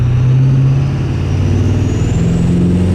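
A 6.7 diesel street truck accelerating hard with its tires spinning, a loud, steady engine roar that holds close and continuous throughout.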